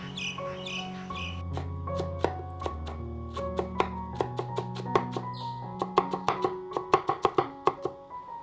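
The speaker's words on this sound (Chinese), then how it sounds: "咱们把辣椒切成小丁备用" A knife chops green and red peppers into small dice on a board in a steady, quickening rhythm of crisp strikes, with soft music playing underneath.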